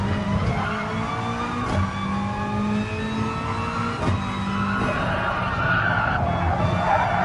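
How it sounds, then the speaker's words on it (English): Race car braking hard into the Corkscrew corner in a Sir Stirling Moss Shield race, engine revs rising and falling with downshifts and tire squeal, loud and continuous under no talk. "heavy braking into the corkscrew"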